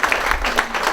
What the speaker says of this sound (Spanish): un aplauso a Julio, que es mi amigo,